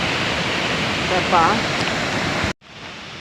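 Strong river current rushing loudly near a hidden waterfall in Luisiana, Laguna: a steady, close, broadband roar with a brief voice over it, cut off abruptly toward the end to a quieter background.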